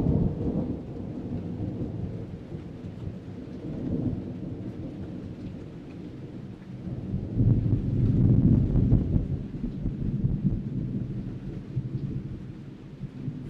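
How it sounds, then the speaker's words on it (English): Rolling thunder rumbles through a violent storm over a large body of water, a continuous deep roar that swells midway, with rain, wind noise and crashing waves underneath and no voices. "Thunder rolls."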